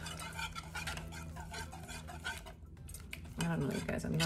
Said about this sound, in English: you add the spinach and mushroom to the egg and stir it up